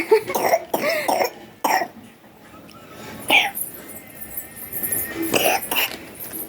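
Someone coughs several times in quick, harsh bursts at close range, with short pauses between them and scattered rustling in the background.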